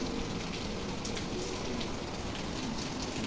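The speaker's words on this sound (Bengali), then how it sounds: "হঠাৎ আবার কি বৃষ্টি শুরু হয়ে গেল" Rain falls steadily on outdoor surfaces in a continuous dense patter, even and moderately loud throughout, with no voices.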